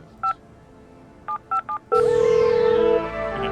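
Four short touch-tone beeps of a phone number being dialed in the video game Escape Academy, followed by a sustained ringing tone with a musical swell, clear and close.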